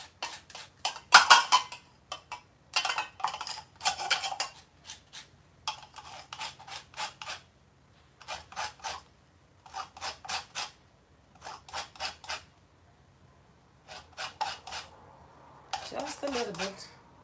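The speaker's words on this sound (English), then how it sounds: "don't grate it down all the way to the white because it's going to be bitter" A lemon rubbed against a grater to take off its zest for a lemon meringue pie, heard as repeated bursts of close rasping strokes with short pauses between them and a voice talking now and then.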